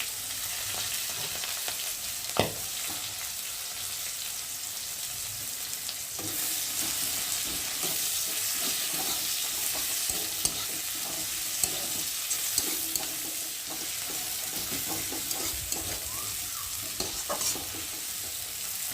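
Chopped onions and green chilies fry in a pan of oil with cumin seeds, a steady close sizzle running throughout, with occasional scrapes and clacks of a spatula stirring them.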